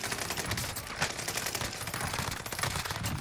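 Continuous rattling automatic gunfire in a shooter video game, dense overlapping shots at moderate volume that fill the whole stretch without pause, with no talk.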